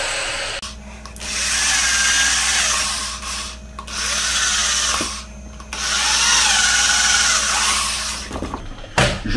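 A power drill bores four holes into a tyre to let a sealant product spread inside, whining loudly in three long bursts separated by short pauses, with no talking.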